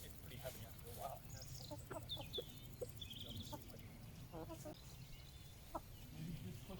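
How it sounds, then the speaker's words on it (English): Chickens cluck in short, scattered bursts in an Italian garden, soft and fairly close, with faint outdoor background. "Maybe just push the chickens towards that tree."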